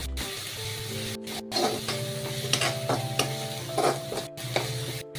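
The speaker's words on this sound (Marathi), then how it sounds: "जो ठेचा केला होता तो आपण टाकणार आहोत त्याच्यामध्ये. त्यालाही आपण 2 मिनिटं परतून घेणार आहोत." Crushed chili thecha is sautéed with onions in a hot pan for a gavar bhaji. Spatula stirs and scrapes rhythmically over a constant, close sizzle of frying, with no talk.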